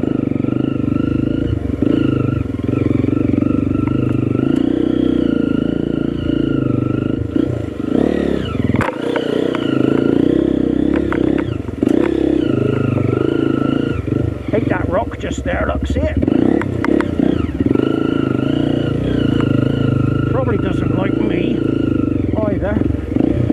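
A Honda CRF motorcycle engine being run in on a trail ride, its steady mid-pitched drone holding under continuous rider talk with occasional revs and clattering over rough ground.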